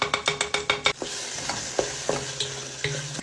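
Tomato paste and harissa frying in a pan for Tunisian makarouna jeria, opening with a quick series of rhythmic spoon knocks and scrapes, then a steady close sizzle broken by a few more stirring taps.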